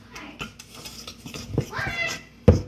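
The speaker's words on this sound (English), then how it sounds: "Now you whisk this." Egg yolks and sugar are whisked in a bowl with a metal whisk for lemon curd, giving brisk clinking scrapes against the bowl and a sharp knock near the end, with children's voices chattering around it.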